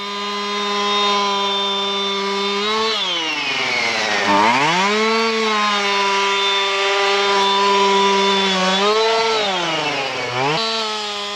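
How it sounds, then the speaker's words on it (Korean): An electric chainsaw cuts through uprooted trees left lying in a rice paddy. Its loud, steady motor whine dips and rises in pitch as the blade bites into the wood, with no talking. "조각가답게 전기톱을 든 하정수가 날렵해 보인다"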